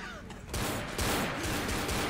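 Pistol shots in the zombie shooter Left 4 Dead: a few sharp, close reports spaced roughly half a second apart over a busy background of game noise.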